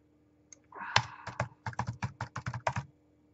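Typing on a new computer keyboard, a burst of crisp, closely spaced keystrokes in an uneven rhythm, close and fairly loud, with no talking over it.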